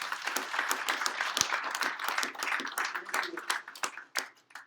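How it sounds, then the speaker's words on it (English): An audience at a Wittenberg University Tiger Tank event gives a round of applause, with many distinct hand claps pattering briskly, thinning and fading toward the end, moderately near and without talk. "So give a big round of applause for the Ness family."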